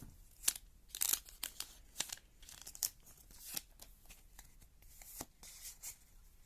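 Japanese trading card booster packs opened by hand at close range, with soft foil crinkling, tearing and card handling in irregular quick bursts, no speech.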